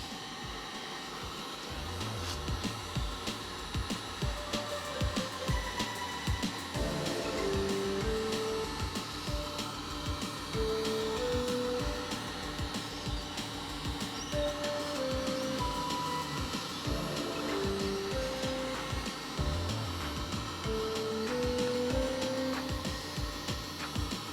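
A heat gun blows hot air while warming a part during a USB charger install on a Honda Shadow VT750 motorcycle, a continuous whooshing roar with a faint whining tone drifting in pitch, held steadily for over twenty seconds without talk.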